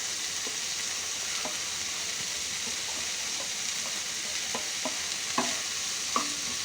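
Onion and capsicum fry in a pan with a steady, soft sizzle, while a spoon scrapes and stirs in scattered light clicks and taps; no one speaks.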